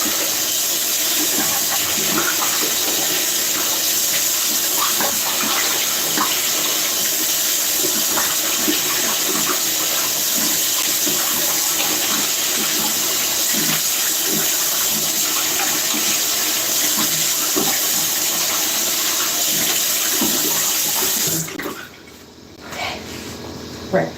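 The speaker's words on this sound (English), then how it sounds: "I need to rinse this off of my face." Steady running water from a tap while a face is rinsed, a continuous broadband wash lasting about twenty seconds before cutting off near the end, with faint movement under it.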